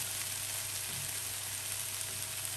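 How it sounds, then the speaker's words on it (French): A pan sizzles steadily and evenly as white wine goes in to deglaze a sauté of Brussels sprouts and chestnuts, making a continuous close hiss with no talking. "à la fin, je vais déglacer tout ça avec un peu de vin blanc"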